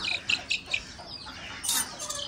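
Newly hatched chicks fresh out of an incubator peep in quick, high chirps, several short calls close by, with a brief rustle between them.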